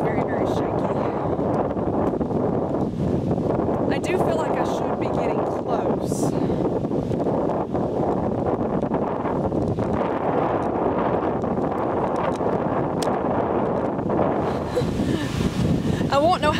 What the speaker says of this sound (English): the wind is blowing so hard today